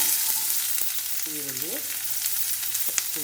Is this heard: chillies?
yes